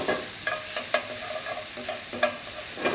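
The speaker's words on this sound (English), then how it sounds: "And give it a wee quick stir fry." Chicken and vegetables stir-fry in a wok with a loud, continuous sizzle, broken by a few sharp stirring scrapes and tosses close by.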